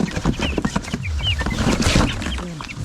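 Chickens cluck and squawk close by, with rapid overlapping calls and some rustling and flapping, as they are handled and moved into a new coop on a farm.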